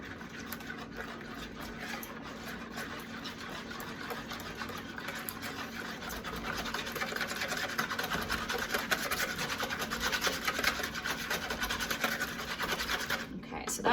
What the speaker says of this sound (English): now I'm gonna take my whisk, okay, and I'm just gonna mix these together